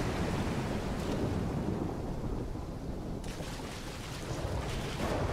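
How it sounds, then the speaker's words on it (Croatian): Heavy, continuous roar of crashing ocean surf and rushing wind in the video game Call of Duty: Black Ops III, dense and low, with no break throughout. "These waves are gonna be a problem."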